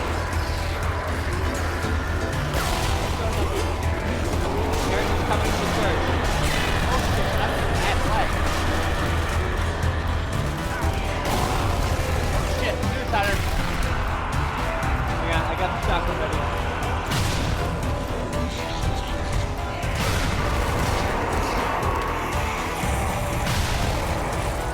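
Grenade blast and rapid gunfire in the co-op zombie shooter Zombie Army Trilogy, with shotgun fire against super zombies; loud, dense and continuous, with players talking over the din.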